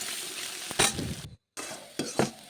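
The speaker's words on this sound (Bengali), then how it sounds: "এখন আমি মটরশুঁটি দিব কটা। মটরশুঁটিগুলোকেও ভেজে নেব।" Onions and green peas fry in hot oil in a pan, a steady close sizzle broken by a few stirring scrapes and one brief pause.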